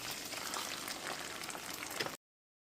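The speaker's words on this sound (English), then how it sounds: "go ahead and add your eggs to the pan." Eggs for a dairy-free omelette with andouille sausage cook in a pan, giving a soft, steady sizzle and crackle that is faint and close, then cuts off abruptly.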